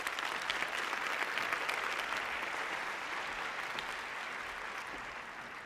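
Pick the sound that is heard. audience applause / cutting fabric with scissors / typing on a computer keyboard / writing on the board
audience applause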